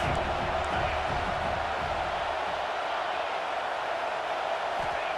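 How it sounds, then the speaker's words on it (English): Steady, dense roar of a college football stadium crowd at an Arizona State vs Texas Tech game, loud and continuous throughout with a diffuse wash of voices and no distinct words. "This crowd trying to make life miserable for this offense."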